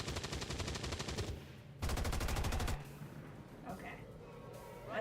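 Rapid bursts of gunfire in the turn-based strategy game XCOM 2: War of the Chosen, two dense volleys separated by a short gap, then quieter game ambience with a faint voice underneath.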